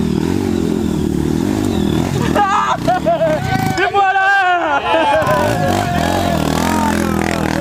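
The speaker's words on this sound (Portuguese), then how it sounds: "Coloca neutro e acelera." A dirt motorcycle revs in neutral on an off-road trail ride, its loud engine drone rising and falling close by while excited voices and crowd chatter carry over it.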